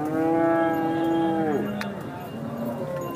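A cow moos loudly and close at a cattle market in Modnimb, one long drawn-out call that drops in pitch at the end, followed by faint background crowd noise.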